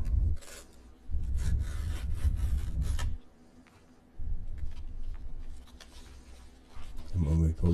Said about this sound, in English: We are just going to pull this strip.